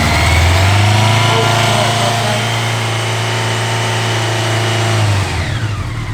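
A 1985 Honda Nighthawk motorcycle engine runs loud and close, a steady rumbling idle with a brief rev in the middle before settling and dropping near the end.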